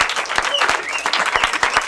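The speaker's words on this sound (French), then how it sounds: "Merci d'applaudir l'arrivée du gâteau." Wedding guests clap to greet the arrival of the cake, a short, lively burst of scattered hand claps with a few distinct sharp slaps standing out amid the room noise.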